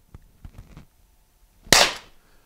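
A single sharp, loud shot from an LTL Alpha 1.5 PepperBall launcher cracks out after a few soft handling taps, its burst ringing briefly before fading.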